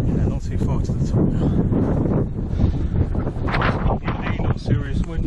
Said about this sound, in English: Not serious wind, but apparently tomorrow could be quite serious.